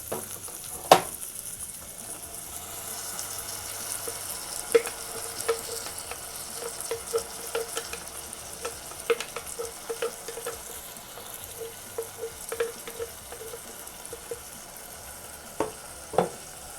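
Mint paste and vegetables sauté in a pan for mint rice, giving a soft, steady sizzle broken by intermittent clinks and scrapes of a spoon stirring against the pan.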